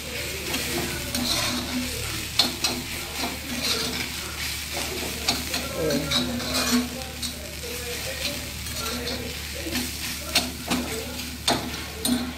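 Spiced vegetables fry in a pan with kokum, a steady close sizzle and crackle broken by the scrape and clatter of a spoon stirring, with no talk over it.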